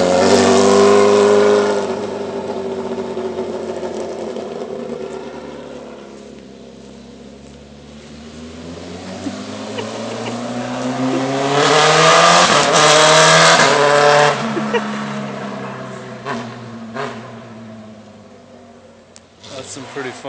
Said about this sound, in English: my neighborhood happens to have an Indy car that just cruises by